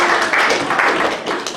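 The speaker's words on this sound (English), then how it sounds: "Why don't we give another clap offering for Jesus this morning?" A church congregation gives a clap offering at a Sunday morning service, continuous dense clapping from many hands, loud and close, with faint voices mixed in.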